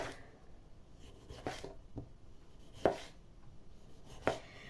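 A knife slices pork fat into thin slices on a board: a few sharp, irregular chops and slices, close up and moderately loud, with no talking.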